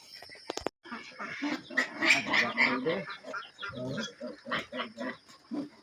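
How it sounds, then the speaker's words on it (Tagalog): Ducks on a backyard farm give a series of nasal quacks and honks at feeding time, rising and falling in irregular bursts nearby, with a little faint talk in the background. "At mamaya pakakawalan na rin natin yung bibi."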